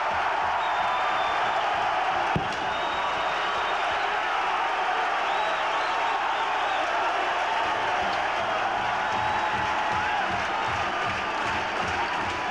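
A big stadium crowd at Memorial Stadium roars steadily after a Clemson Tigers touchdown against Virginia Tech, a dense wall of cheering and applause that holds loud and unbroken throughout.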